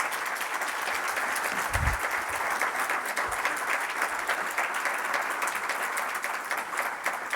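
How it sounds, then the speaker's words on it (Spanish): Sustained applause from a seated audience at a ufology world congress in Barcelona, dense continuous clapping from a large crowd heard alone for several seconds, with a couple of low bumps partway through. "Yo creo que merece un fuerte aplauso Sebastián Darbo."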